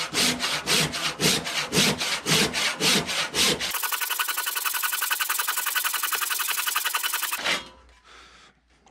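A hand saw cuts through oak rafter wood in quick rhythmic back-and-forth strokes, then switches to a steady continuous rasp before stopping.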